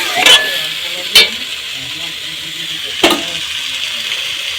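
Pumpkin, potato, bori and fish frying together in a pan for a home-cooked morning meal: a steady sizzle runs throughout, with three sharp spatters or stirring scrapes standing out near the microphone.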